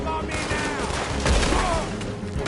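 Gunfire in Red Dead Redemption 2, a rapid fusillade of shots mixed with game effects and music, loud and dense throughout, with a voice speaking under it.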